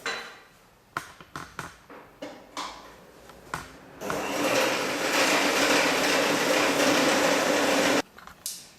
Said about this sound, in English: we are going to use an electric mixer, or we could also use a hand mixer, to beat half a cup of butter at room temperature until it becomes smooth